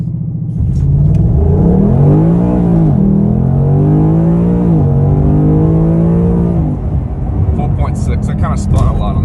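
A 2021 Ford Mustang Mach 1 roars hard through a 0-60 launch with its engine climbing through revs and shifts, loud and close, with tire spin and someone talking over the engine throughout.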